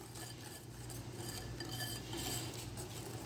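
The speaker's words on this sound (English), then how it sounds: "you're just going to whisk in your milk, and this is your dough mixture" Milk is whisked into a chocolate cobbler dough mixture in a bowl, making a quiet, steady scraping and clinking of the whisk against the bowl, with no talking.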